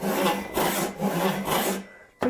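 A Roubo-style frame saw rips through a little over 2.5 inches of hard maple, giving four steady rasping strokes in a regular back-and-forth rhythm, close and loud, with no talking.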